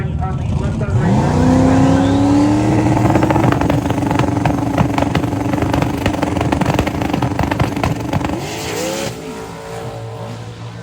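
Engine roar of a 4x4 Ford Crown Victoria drag racing down a track, a loud sustained revving pass with rising tones, under a commentator's voice over the public address.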